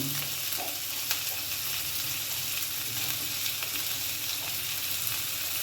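Vegetables frying and being stirred in a pan for a light vegetarian curry with ginger, a steady close sizzle throughout with occasional scraping stirs, no talking.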